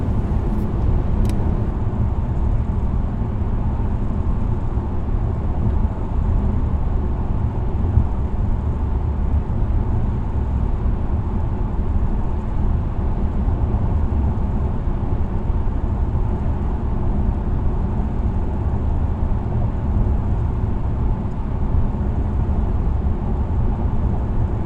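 Steady interior road noise of a Mercedes E-Class cruising on the road under cruise control, a constant low rumble and tyre hum that stays even throughout with no talk.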